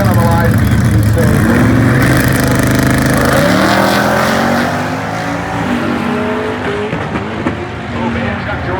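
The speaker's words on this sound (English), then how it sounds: "that twin is a Honda S2000 with a turbocharged LS motor" Honda S2000 drag car with a turbocharged LS engine racing at a drag-strip event, a loud, continuous engine roar with rising pitch through the gears, steady and close, with a commentator talking over it.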